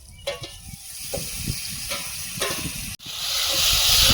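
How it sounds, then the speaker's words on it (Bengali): Steady close sizzle of spices, salt, turmeric, Kashmiri chilli powder and grated tomato frying in oil in a pan, with soft stirring scrapes and a brief dip before the hiss swells louder. "ভালোভাবে মশলা কষিয়ে নেব টমেটোর কাঁচা গন্ধ চলে যাওয়া পর্যন্ত"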